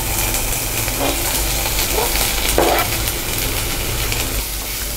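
Green chilies and onion sizzle in hot oil in a pan for a prawn pepper masala, a steady loud frying hiss with faint stirring scrapes and no talking.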